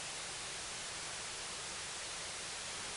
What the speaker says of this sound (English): I have only the white noise going through the filter now